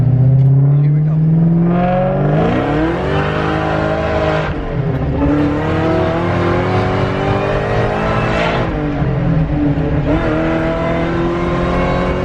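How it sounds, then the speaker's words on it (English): A car accelerates hard through a first and second gear pull, engine revs climbing with a brief dip at the shift around four seconds, then rising again, loud and close. "So we're gonna do try and do like a first and second gear pull."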